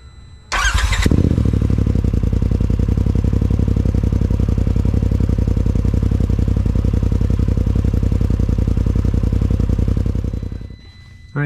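A motorcycle fitted with a newly installed Aftermarket Assassins stage 3 clutch is started with a short crank, then runs loud and close at a steady, rapidly pulsing idle before shutting off.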